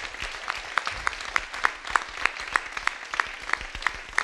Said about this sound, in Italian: Un grande applauso da tutto il nostro studio